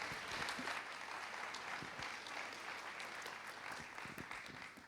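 An audience at an awards evening gives sustained applause, a steady wash of clapping from many people that is fairly faint and heard from a distance.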